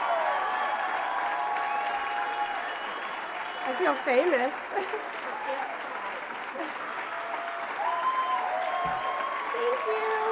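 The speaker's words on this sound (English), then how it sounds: "Let's give them a great round of applause." Audience applause at a cutlery company conference, a steady wash of clapping running throughout, with a voice speaking briefly over it partway through.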